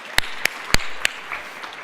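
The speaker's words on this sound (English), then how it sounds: "That's worth a clap." Four or five sharp, separate claps ring out in a keynote hall at a summit, spaced unevenly and fading rather than building into full applause.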